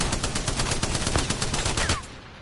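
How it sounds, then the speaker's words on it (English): The Spitfire light machine gun in Apex Legends fires a sustained rapid burst for about two seconds, a loud, even rattle of closely spaced shots that stops abruptly and leaves a brief fading tail. "This is a beast of a weapon, and the only weakness is that it shoots a little slower than the other LMGs and SMGs"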